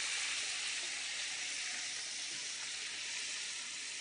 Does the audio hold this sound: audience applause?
no